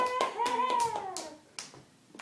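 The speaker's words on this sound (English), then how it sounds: "You gotta clap your hands" A young child claps his hands a few separate times, close and fairly quiet, while an adult voice talks with sustained, expressive speech through much of it.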